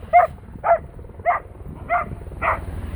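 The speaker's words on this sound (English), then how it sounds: "yells at him, barks at him" Five evenly spaced dog barks sound close and fairly loud, each a short yelping bow-wow with a steady rhythm over a low background rumble.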